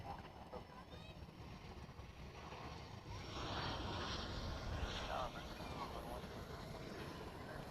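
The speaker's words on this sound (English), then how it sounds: "I believe this is the FedEx 757 coming in tonight from Alliance Airport in Fort Worth, a 16-mile trip." A FedEx Boeing 757 lands at night at DFW Airport after a short hop from Alliance Airport in Fort Worth. Its distant, faint jet roar swells partway through and holds steady over light wind noise.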